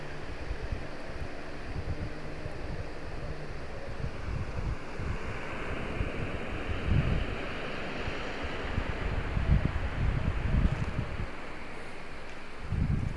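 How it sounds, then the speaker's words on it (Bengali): Ocean waves surge and wash steadily with wind buffeting the microphone, low rumbles swelling now and then; no one speaks. "আর এই হলো আমাদের"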